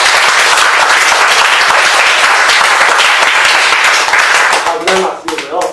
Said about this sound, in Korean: 우리 담당자에게 박수 한번 다시 한번 치겠습니다